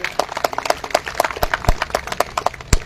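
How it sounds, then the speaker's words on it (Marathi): Audience at a Marathi public address applauds, with a dense run of hand claps filling the crowd noise and a few louder, sharper claps standing out near the end. "त्यांच्यासाठी जोरात टाळ्या वाजल्या पाहिजेत"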